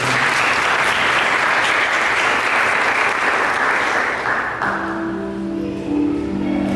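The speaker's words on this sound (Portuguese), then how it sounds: "E uma salva de palmas para essa palavra que é assim." A worship gathering breaks into loud, sustained applause that fills the room for several seconds, then fades out as music starts up underneath.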